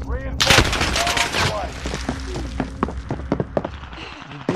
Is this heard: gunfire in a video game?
yes